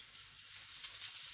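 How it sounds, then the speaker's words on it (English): Lyonnaise potatoes fry in a pan with a steady, close hiss and crackle of sizzling oil, continuous and even throughout. "Frying nicely, rather."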